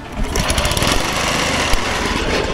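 A small pull-rope-started outboard boat motor on Bali roars loudly close by, running steadily with a rapid throbbing rhythm.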